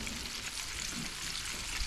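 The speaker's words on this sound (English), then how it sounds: "And now the deep frying begins." Steady, dense sizzling and bubbling of fish (dhufish) deep frying in hot oil, close by and constant throughout.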